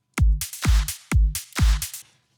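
Mixed clap track from a beat played in mono: four punchy claps on a steady rhythm, each with a low thump and bright snappy burst, loud and close with no talk.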